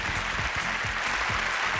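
Studio audience clapping on a TVB game show, a brief dense burst of applause at full strength throughout, with faint low voices or music underneath.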